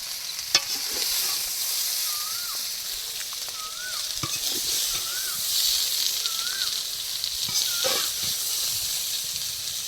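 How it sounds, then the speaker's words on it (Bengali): Fried vegetables are stirred into boiled rice and lentils for khichdi, giving a steady sizzle and hiss with scraping stirs and clatters, while a small bird chirps faintly in the background. "চাল ডাল সিদ্ধ হয়ে গেছে এবার ভেজে রাখা সবজি দিয়ে দেব"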